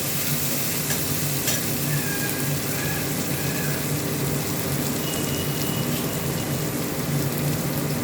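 Garlic and green chili paste fries in a pan for a spicy crab dish, making a dense, even sizzle like steady rain that runs unbroken throughout, with only faint stirring touches.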